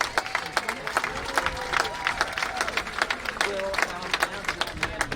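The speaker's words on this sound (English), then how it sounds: "Give him a round of applause in advance now." A rally crowd at Perth's Bell Tower applauds Professor Augusto Zimmerman, a run of sharp claps and scattered cheering close by under a mixed murmur of voices.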